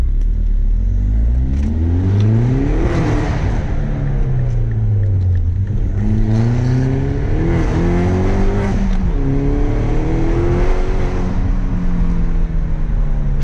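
A Mini Cooper S built to GP spec with the JCW pack revs and accelerates hard, its engine note climbing and falling through repeated up-shifts, loud and close, with no talking.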